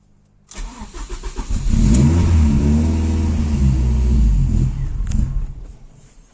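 A car engine cranks and catches after its ECU is hooked up, then revs and holds a loud, steady roar that builds over several seconds before easing off near the end.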